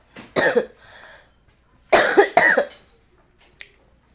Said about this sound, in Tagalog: Ubo na ko